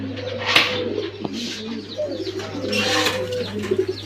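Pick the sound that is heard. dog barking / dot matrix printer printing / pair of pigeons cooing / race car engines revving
pair of pigeons cooing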